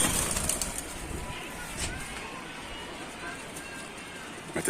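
Pigeons coo, with a few wing flaps, in a loft of flying pigeons. The sounds sit amid a noisy, hissy background while people talk nearby.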